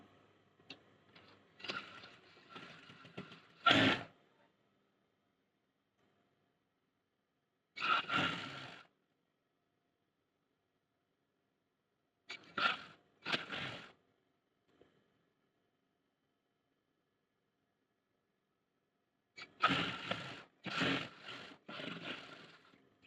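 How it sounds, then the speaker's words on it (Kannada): A home sewing machine stitching a blouse sleeve, running in four short separate bursts of rapid mechanical ticking with silent pauses between them. "ಇವಾಗ ಕಂಪ್ಲೀಟಾಗಿ ಸ್ಟಿಚ್ ಬಿಡೋಣ."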